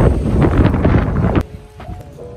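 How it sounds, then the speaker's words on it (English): Wind and rain outdoors on the UC Berkeley campus: a loud, steady rushing gust for about a second and a half, then a quieter background of wind with faint scattered noises. "It's raining and it's windy."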